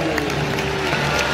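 A large arena audience at a Cavalluna horse show in Rotterdam claps in a dense, steady wash of applause, with a voice audible over the crowd.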